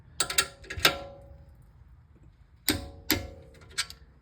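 Torque wrench clicking as a brake caliper bolt is tightened on a 2019 Volvo XC90 during a front brake pad job, with sharp metallic clicks in two clusters separated by a short pause, close up.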